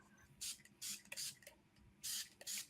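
Hand spray bottle misting water onto a towel with invisible ink, four or five short hissing bursts at uneven intervals, close and fairly quiet, heard alone.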